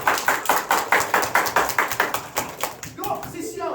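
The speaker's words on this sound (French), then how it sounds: "Mais on s'applaudit, tout le monde!" A classroom of children claps together in a quick, rhythmic series of a dozen or so sharp, evenly spaced beats, close and loud, trailing off as young voices begin talking at the end.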